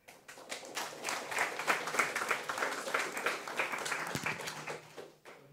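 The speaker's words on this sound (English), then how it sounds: "He apparently already got the round of applause" An audience claps after a student presentation at a GSoC event, a dense burst of many hands that swells, holds for several seconds and tapers off, moderately distant in a room.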